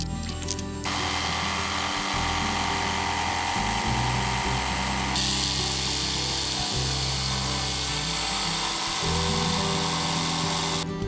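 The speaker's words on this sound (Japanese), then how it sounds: "ジグソーで切っていきたいと思います。" A jigsaw saws through wooden deck floorboards outdoors, a loud, continuous buzzing cut that runs almost unbroken for the whole stretch, shifting pitch slightly as the blade works through the boards.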